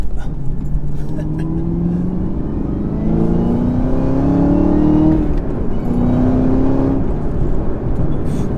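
A 2021 Chevrolet Camaro ZL1 1LE drives and accelerates with a steady engine drone and rising pitch sweeps as it pulls through the gears, heard from inside the cabin, with a voice talking over it.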